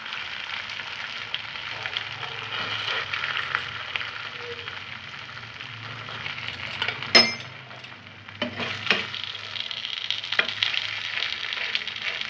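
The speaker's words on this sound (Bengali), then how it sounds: "আমি একে একে পিঠেগুলো ভেজে নিচ্ছি।" Bengali dudh patisapta pancakes fry one by one in oil over a gas flame, giving a soft, steady sizzle with a couple of brief utensil clinks partway through.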